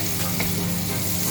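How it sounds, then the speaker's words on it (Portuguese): Tomato and garlic sautéing in a pan, a steady close sizzle with a low hum running underneath, no talk. "Eu esperei o alho então ficar dourado e agora eu tô refogando o tomate."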